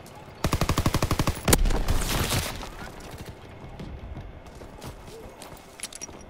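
A rapid burst of automatic gunfire rings out in the World War II shooter Call of Duty: WWII. A louder single shot follows, then a crackling battle din trails off behind it.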